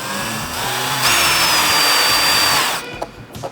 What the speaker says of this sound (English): You're gonna pull these 6 screws out and take the windshield off.